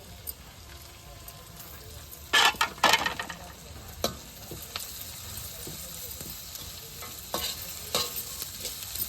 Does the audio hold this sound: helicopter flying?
no